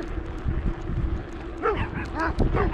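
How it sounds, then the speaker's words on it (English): Dogs along a rural Texas road bark and yip at a passing cyclist, several short barks close by over wind and road rumble. "we got a lot of dogs over here on the left"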